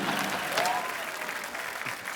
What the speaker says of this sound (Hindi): सरला के लिए जोरदार तालियां